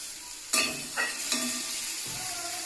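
Spice masala with water is stirred and fried in a pan for a tangra fish curry, a quiet steady sizzle broken by several sharp scrapes and clinks of the spoon against the pan.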